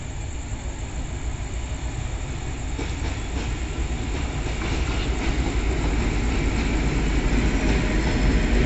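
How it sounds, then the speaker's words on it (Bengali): The Nilsagar Express, hauled by locomotive 6518, rolls into platform 1 at Parbatipur Junction at night. A steady, heavy rumble and rail noise build gradually as the train arrives, with no voices over it. "ট্রেন প্রবেশ করছে, দেখতে পাচ্ছেন 1 নম্বর প্ল্যাটফর্মে।"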